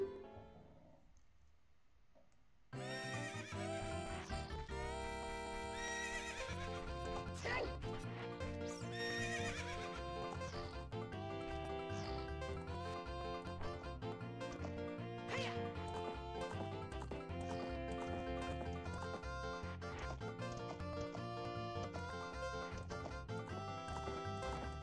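In The Legend of Zelda, a horse whinnies and its hooves clip-clop over busy, continuous game music that starts after a brief quiet opening.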